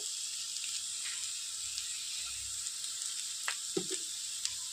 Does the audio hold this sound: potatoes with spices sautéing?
yes